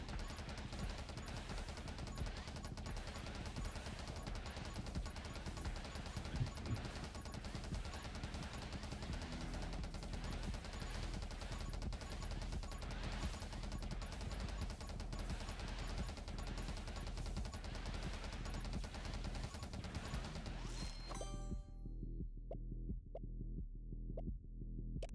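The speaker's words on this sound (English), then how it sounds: "this is where I have to pay attention because they are shooting projectiles now" Enemies firing projectiles in an action roguelike game, a steady dense barrage of rapid shots and hits under constant game music that cuts out near the end, leaving a few sparse thumps.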